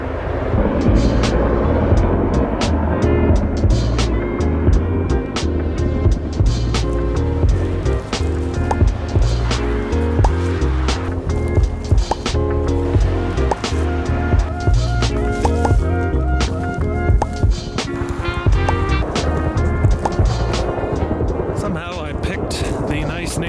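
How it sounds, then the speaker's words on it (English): Helicopter rotor chop throbs steadily throughout, loud and close, with dense rumbling low end and constant mechanical noise, beside a helicopter testing facility. "It is a helicopter."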